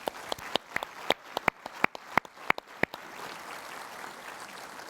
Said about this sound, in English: Let's give them all a very big round of applause.